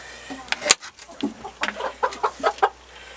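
Chickens in a coop cluck in short, irregular bursts nearby, several birds overlapping over a low steady background hum, with a brief knock near the start.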